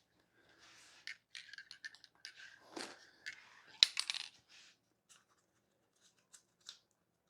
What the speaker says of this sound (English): Whilst I pull that tape off